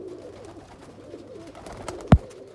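Blue-eyed Sialkoti pigeons in a loft giving a low, continuous murmuring coo, followed by a single sharp knock near the end, with no one speaking.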